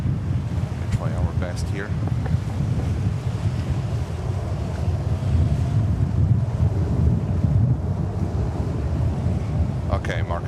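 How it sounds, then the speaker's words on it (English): Strong wind roars and buffets the microphone in continuous gusts at JFK Airport in New York, with brief speech at the start and end. "The wind gusts are really nasty."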